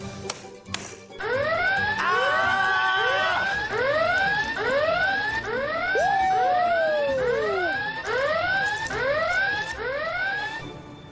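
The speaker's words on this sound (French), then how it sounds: "Océane, pourquoi as-tu déclenché l'alarme des secrets?" The secrets alarm in the Secret Story reality-show house goes off, a loud wailing siren-like tone in rapid repeated rising sweeps, with a brief steady tone layered partway through, continuing without pause for about ten seconds after a short click.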